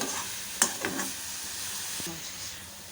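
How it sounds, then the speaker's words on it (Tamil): Beetroot stir-frying in oil with asafoetida and dried red chilies, a soft sizzle broken by a few sharp spatula scrapes and clinks against the pan. "இப்போ இந்த பீட்ரூட்டை வந்து நம்ம ஒரு தடவை அந்த எண்ணெயிலே வந்து நல்லா வறுத்தாச்சு"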